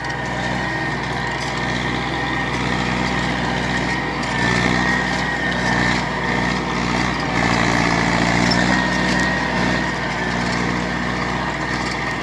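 An MTZ tractor engine works under load while ploughing a field, giving a loud, steady, close drone that runs unbroken throughout with slight surges in strength.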